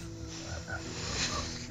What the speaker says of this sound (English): Purple lurker frogs.